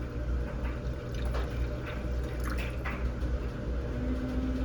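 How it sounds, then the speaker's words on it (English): Worcestershire sauce pours into a pot with a continuous gurgling, trickling liquid sound, close and steady throughout, with a low background hum and no talking. "I'm just gonna pour it in till it fills up the bottom."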